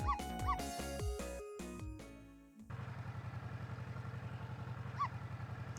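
In the Ghost Trick: Phantom Detective video game, a dog gives a few short yips and whimpers over music, followed by a steady pulsing rhythm, quiet overall.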